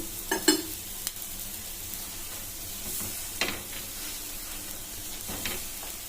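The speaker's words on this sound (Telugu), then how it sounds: "మనము మరోపక్క తిరిగేసుకొని కాల్చుకోవాలి" Soft, steady sizzling of a sweet ragi millet flour paratha roasting on a hot pan with ghee or oil, broken by a few light scrapes and taps; no talking.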